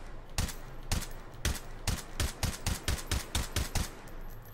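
Rifle shots fired at a range target in the video game Hot Dogs, Horseshoes & Hand Grenades, a dozen sharp cracks in irregular succession, loud and close, with no voices.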